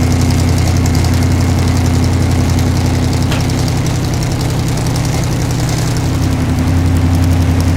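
A race car engine idles cold on a chassis dyno, loud and steady with a deep low rumble and constant mechanical vibration, running alone without any voices.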